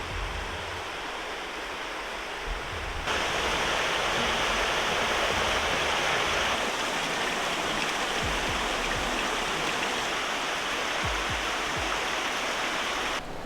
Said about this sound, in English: The water's obviously still flowing in there